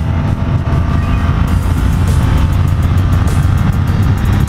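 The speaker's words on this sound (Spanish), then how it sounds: "Coche." A car passes close by on a tree-lined road while riding a BMW motorcycle, its engine and tyre roar rising and holding loud and steady over the rushing wind.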